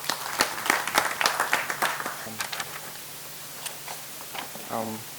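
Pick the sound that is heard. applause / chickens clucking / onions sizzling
applause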